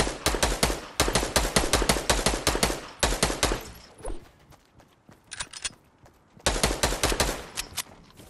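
Rapid automatic gunfire in a video game, loud and close, comes in several sustained bursts with short pauses between them and a few sharper single shots in the gap.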